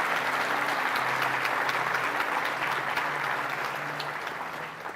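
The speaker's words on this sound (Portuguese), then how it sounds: "Vamos dar um aplauso ao Senhor pela vida dos nossos obreiros" A church congregation applauds for its workers, many hands clapping in a dense, continuous roar that holds steady and then eases slightly toward the end, with a soft sustained tone beneath.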